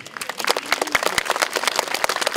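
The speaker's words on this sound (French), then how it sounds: "On peut applaudir le courageux Louis." Outdoor crowd applause at a medieval festival in Saint-Omer, a dense patter of many hands clapping steadily, fairly close and without talk.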